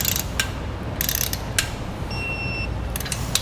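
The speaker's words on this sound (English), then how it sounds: "To do this, you'll use a 9/16 inch wrench and socket. Now we'll get all 4 torqued down." Tightening the bolts of a Dutton-Lainson boat trailer jack with a 9/16 inch wrench and socket: close, loud bursts of ratcheting clicks come in short runs, with a brief high metallic whine partway through.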